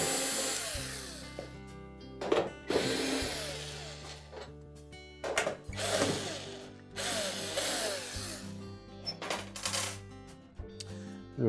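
A power screwdriver backs screws out of the lower back panel of a Frigidaire range, with several separate bursts of whirring motor and ratcheting mixed with clatter and handling noise between the runs.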